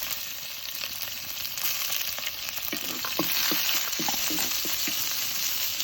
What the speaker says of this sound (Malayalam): ഉള്ളി കുറച്ച് വഴന്ന് വന്നിട്ടുണ്ട്